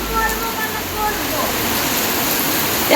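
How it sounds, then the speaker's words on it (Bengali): Heavy rain pours in a steady, dense roar at close range, a continuous wash of hiss that stays loud and even throughout with no break. "এই তীব্র বৃষ্টি"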